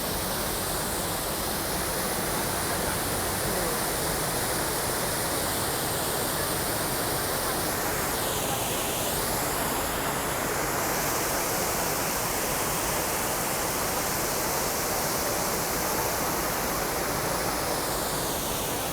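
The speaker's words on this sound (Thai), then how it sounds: "เดินมาไดลงมาตรงนี้ก็จะเจอน้ำตกค่ะ" A waterfall at Koh Yuan in Nakhon Sawan, Thailand, pours in a dense, steady roar from close range, unbroken for the whole stretch and with no talking over it.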